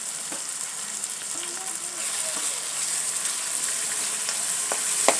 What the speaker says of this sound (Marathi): असं छान असं लालसर होईपर्यंत परतून घ्यायचं